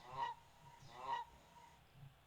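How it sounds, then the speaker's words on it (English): Two clear goose honks sound as a notification alert on the TradingView app, with a third softer one trailing off. Each honk is short and nasal, evenly spaced and fairly quiet, with no talk. "A goose?"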